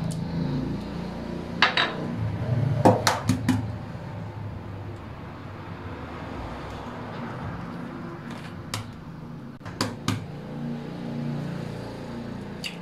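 Four eggs tipped into a cake batter in a mixing bowl while making an opera cake, with scattered clinks and knocks of bowl and utensils over a low steady kitchen background.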